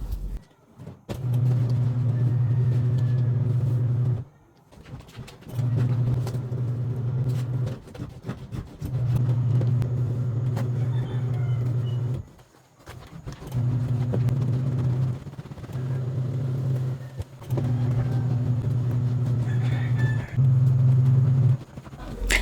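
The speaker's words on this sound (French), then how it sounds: "quand tu mets tes vêtements dans l'autre compartiment pour que les vêtements puissent essorer, tu entends parfois ce genre de bruit" Semi-automatic washing machine spinning clothes in its spin compartment, a steady low motor hum and rumble that runs in repeated bursts separated by brief pauses, close and moderately loud.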